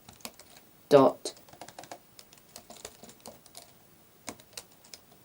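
Computer keyboard keys clatter in quick irregular bursts while Python code is typed, close and fairly soft, with a voice briefly speaking over the tapping.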